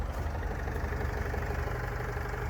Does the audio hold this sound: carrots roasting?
no